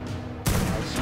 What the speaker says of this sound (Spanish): Vamos a pegar un par de tiros.